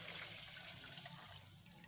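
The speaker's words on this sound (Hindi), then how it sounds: "साथ ही मैं इसमें जो हमारे पास 750 ml या 3 ग्लास पानी है वो मैं डाल रही हूँ।" Water poured steadily into a blender jar already holding heaped spoonfuls of sugar, a continuous close splashing rush that eases slightly near the end, with no talk.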